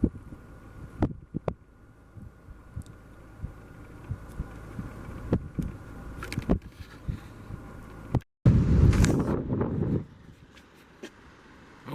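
Wind buffeting a camera microphone outdoors among jagged mountains in the Sawtooth range, a low rumbling throb with scattered gusty thumps, bursting into a loud close roar near the end.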